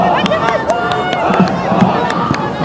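A stadium crowd at a women's football match between Wolfsburg and Leipzig claps in warm applause as a player gets back on her feet, a steady patter of distant clapping under a commentator's talk.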